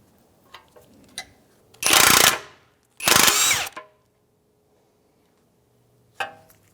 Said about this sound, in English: we're going to use a socket on one side and a wrench on the other